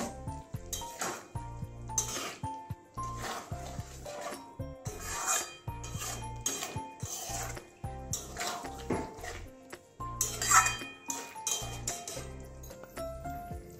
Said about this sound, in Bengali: লেবুর রস দেওয়া হয়েছে, এবারে ভালো করে মিশিয়ে নেব।